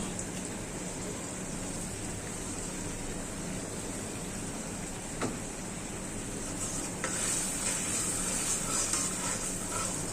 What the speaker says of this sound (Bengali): মশলাটা ভালো করে কষাবো, টমেটোটা গলে যাবে।